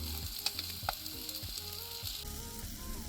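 Cheese melting in a hot pan at an outdoor camp cookout, giving a soft, steady sizzle with light scrapes of stirring, close but quiet and without talk.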